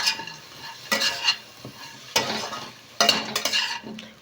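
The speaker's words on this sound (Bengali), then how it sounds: "সবজির সাথে ডালটা একটু ভেজে নেব।" Soaked arhar dal frying with vegetables in a pan for sambar gives a soft sizzle, broken by bursts of scraping as a spatula stirs against the pan several times.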